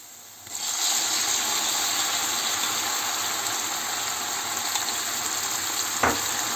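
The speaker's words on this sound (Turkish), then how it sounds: "Domateslerim ezilene kadar pişireceğim." Tomatoes and peppers frying in a pan for Turkish menemen, a loud steady sizzle that swells in after a quiet start and holds evenly, with a single sharp clink of a utensil near the end.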